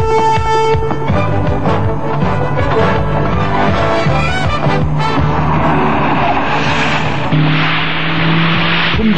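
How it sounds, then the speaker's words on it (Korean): A Samsung truck at a test track, with loud engine roar and rough tire noise close by, steady tones running underneath and a shift in texture toward the end. "여기는 1등 품질에 도전하는 삼성트럭 테스트 현장"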